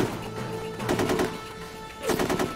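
Rapid machine-gun bursts from the squad combat video game Full Spectrum Warrior, two loud rattling volleys separated by a brief lull, over a low background hum.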